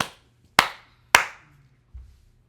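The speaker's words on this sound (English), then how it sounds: "clap your hands in the kirtan" Hands clapping during kirtan: three sharp, distinct claps spaced about half a second apart, the last one softer, close and dry with silence between.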